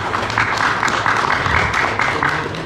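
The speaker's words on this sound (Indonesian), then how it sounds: "Tepuk tangan dulu untuk beliau," A gathering applauds the Chief Prosecutor of Tanjung Jabung Timur, with a steady burst of dense, moderately loud clapping that lasts the whole moment and has no voices over it.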